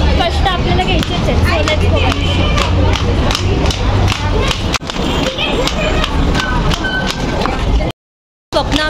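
Dense crowd hubbub fills Garware College metro station in Pune, a steady loud babble of many voices with footsteps and thumps, continuous until a brief drop to silence near the end.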